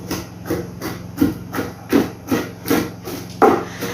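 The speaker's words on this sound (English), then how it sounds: "We are going to pound it to separate the chaff from the kernel itself" Palm fruit pounded by hand to split chaff from kernel, a steady series of dull wooden thuds about every half second, close and loud, each with a brief rubbing scrape.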